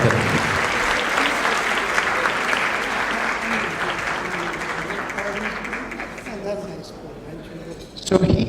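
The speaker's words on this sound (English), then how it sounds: "Ladies and gentlemen, a round of applause for" Sustained applause from a large gala audience at a charity fundraising dinner in Washington, DC, a dense steady clatter of many hands that carries on for several seconds, thins slightly near the end, then swells again under a voice.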